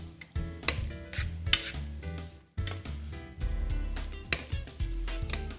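Pumpkin cooking with butter in a pan is stirred with a utensil, producing repeated scraping and clinking strokes over a soft sizzle, close and fairly loud, with no talk.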